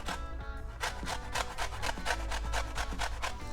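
Lemon zest grated onto a plate of pesto pasta, a steady rhythmic rasping of rind against a grater, close and fairly loud with repeated strokes throughout and no talking.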